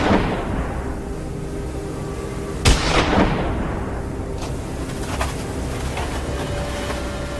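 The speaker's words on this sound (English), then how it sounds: "The gunshot rang out sharply, bullet flew out in the blink of an eye" A single sharp rifle shot cracks out loud and close during a wild boar hunt in a gray winter forest, then rolls away in a long echoing tail, with a few faint pops later.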